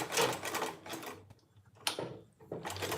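A sewing machine back stitching a bag seam runs in short bursts, a fast close mechanical chatter that stops and restarts several times with quiet gaps between.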